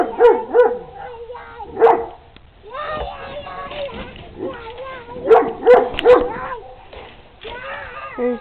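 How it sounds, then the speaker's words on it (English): A dog barks in a series of near, loud yaps and higher whimpering yips, clustered in bursts with short pauses, among other dogs for sale and people talking. "There's Bubba's dog, Toto."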